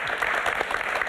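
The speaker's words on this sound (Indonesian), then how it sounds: "Siap, dahsyat sekali tepuk tangan teman-teman." Audience applause fills a lecture-style religious talk show, a steady dense wash of clapping at moderate level with no voices over it.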